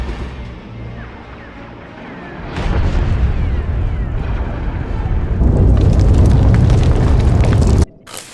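Starship weapons fire and explosions in Star Wars: The Old Republic, a dense roar of blasts that starts moderate, surges loud and sustained at about 2.5 seconds, grows heavier near the end, then cuts off abruptly.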